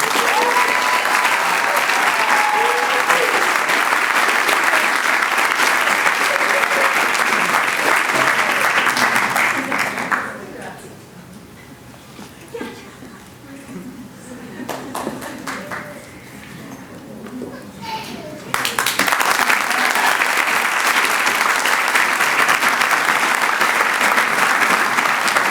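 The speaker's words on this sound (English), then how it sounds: "Let's do another big round of applause for all the graduates." Loud, sustained applause from a crowd at a Springfield College physician assistant certificate ceremony, dropping away briefly for a quieter stretch with speech before swelling back to full clapping.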